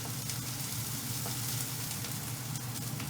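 Kale stems frying with garlic in a pan give a steady, close sizzle and crackle that holds without a break, with no voices over it.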